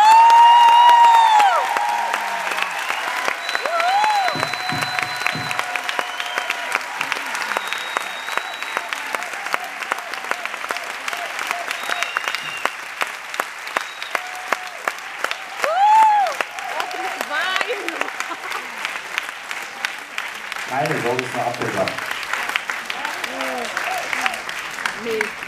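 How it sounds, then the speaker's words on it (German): Concert audience applauding the band for a long, sustained stretch, dense steady clapping with some cheering mixed in and brief instrument notes sounding through. "ganz, ganz großen Applaus für meine Band"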